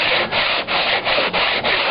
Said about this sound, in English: tedious things like sanding drywall are not really that hard